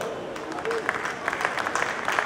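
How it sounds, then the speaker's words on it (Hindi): A crowd at a mushaira poetry gathering in Bhiwandi claps to welcome a guest onto the stage. The clapping is a dense, continuous patter from a large audience, with a voice faintly under it. "आप सब तालियों से उनका स्वागत करें, इस्तकबाल करें।"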